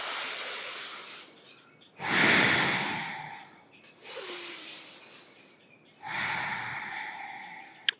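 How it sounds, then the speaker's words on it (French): Slow nasal breathing during a children's yoga exercise: three long, airy inhale and exhale cycles, close and soft, with no talking. "on inspire, on sent l'air qui passe dans le nez. On expire, on sent l'air qui ressort du nez."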